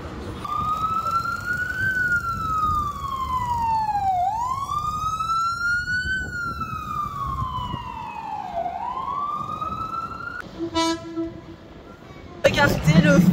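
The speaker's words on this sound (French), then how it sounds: "les fameux bruits de New York qu'on entend H24, pompiers, ambulances, en tout genre" Sirens from fire engines and ambulances on a New York street, rising and falling in long loud sweeping wails that dominate the clip, followed by a brief horn blast and then a burst of traffic noise near the end.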